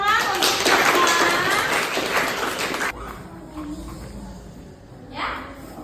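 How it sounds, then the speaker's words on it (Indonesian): A class claps together in a school geography lesson, a brief burst of lively applause that stops abruptly, followed by quieter room sound and a voice. "kasih tepuk tangan untuk kita semua"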